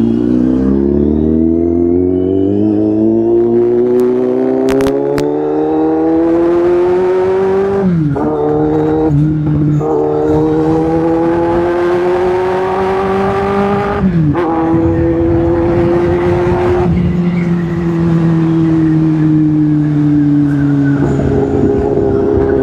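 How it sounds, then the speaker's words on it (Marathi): A vehicle engine drones loudly and steadily throughout a ride, its pitch climbing and dipping with brief dips as it shifts, with no talking. "गाडीचा आवाजच असा आहे, कोणी काही बोलतच नाही, फक्त आवाज ऐकायचा असतो."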